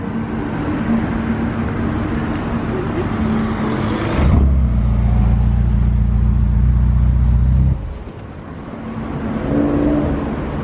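A Ferrari SF90 hybrid pulls away in electric mode, a low steady hum and rumble rising for a few seconds before cutting off, with road noise around it.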